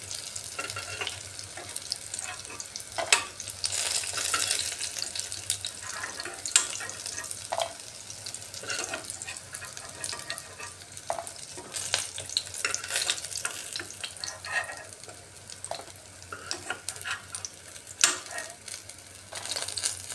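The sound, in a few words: fish pakora frying in oil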